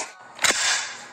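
A rifle bolt slams forward on an empty chamber in a dry fire, a single sharp metallic clack standing out close and loud against steady background hiss.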